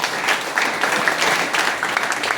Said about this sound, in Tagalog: Isang malakas na palakpak.